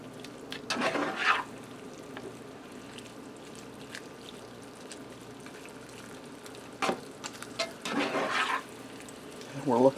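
Shrimp pasta with tomatoes and spinach is stirred in a hot pan, two short bursts of scraping and sizzling separated by a quiet stretch of low kitchen hum.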